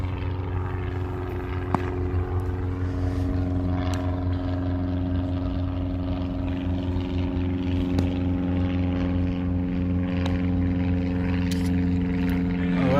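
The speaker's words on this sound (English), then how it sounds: "There is another flight flying by." An aircraft drones steadily overhead during a local cricket match in Canberra, a continuous engine hum that stays loud and even throughout, with faint background ground sounds.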